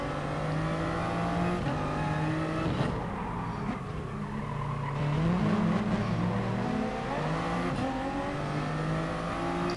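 Race car engines in the GT Sport video game roar steadily throughout, with revving and shifting pitch as cars accelerate, plus occasional tire skids, loud and continuous with no talking.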